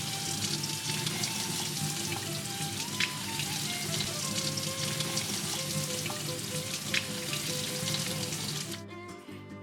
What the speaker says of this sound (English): There's a little sticky substance, so I'm gonna rinse this off